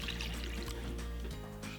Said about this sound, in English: pour the little bowl of water into the big bowl of glue.